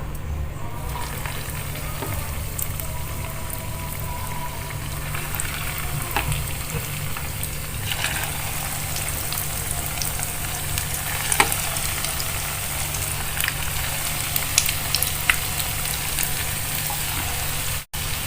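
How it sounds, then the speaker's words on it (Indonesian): Constant crackling sizzle of noodles frying in hot oil, steady and close, with occasional louder pops and no talking. "Sekarang kita goreng."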